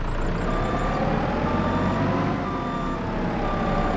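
A starter truck reverses in Farming Simulator 25, its backup beeper sounding steadily over a constant engine drone and background hum, with no talking.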